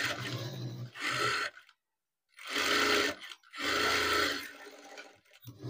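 Sewing machine stitching a blouse in a tailoring class, three loud close bursts of whirring motor with short silent pauses between runs.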